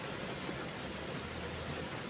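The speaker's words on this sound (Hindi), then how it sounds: "बारिश बहुत ज़्यादा हो रहा है" Heavy rain pours down in a dense, steady hiss with no letup, filling the whole scene.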